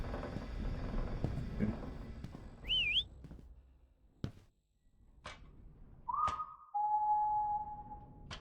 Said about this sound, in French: Donc les statues sifflant retour.